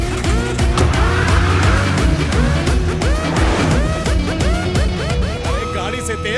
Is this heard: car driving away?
yes